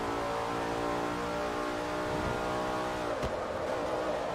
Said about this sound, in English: I need more engine noise.